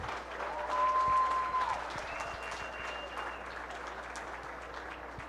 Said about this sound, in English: let's give everybody one more round of applause as they come back into the ring